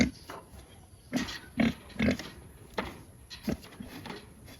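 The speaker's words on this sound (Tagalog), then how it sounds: "Ang lahi po nitong ating baboy ay Landrace." A Landrace junior boar grunts in a series of short, close snorting bursts spaced irregularly, with quiet pauses between them and no talk over the grunts.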